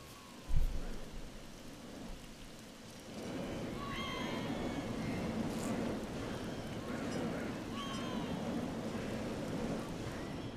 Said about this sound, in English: The only issue is that if it keeps frickin' raining